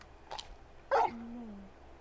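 Torgal, a large dog in the video game Final Fantasy XVI, gives a faint yip, then one sharp close bark that trails into a short falling whine.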